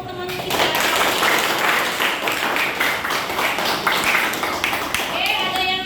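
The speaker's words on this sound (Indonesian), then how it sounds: "Oke, beri tepuk tangan untuk teman kita." A classroom audience claps for a classmate, a dense burst of many hands that holds steady for several seconds, close and fairly loud.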